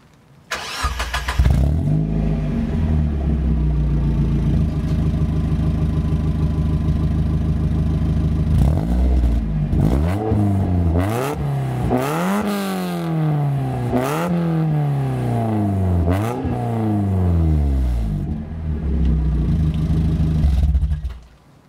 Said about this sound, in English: Here's what the car currently sounds like with the ISR exhaust.